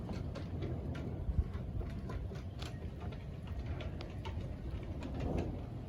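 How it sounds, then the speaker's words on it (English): Rain arriving during a lightning storm, a steady broadband patter and rush with scattered sharper drops, moderately loud and constant outdoors. "oh, here comes the rain."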